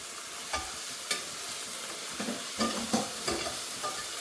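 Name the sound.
tomato being fried for curry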